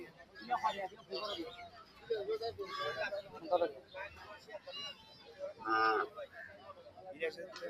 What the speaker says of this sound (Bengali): দেখেন একটা গাভী গরু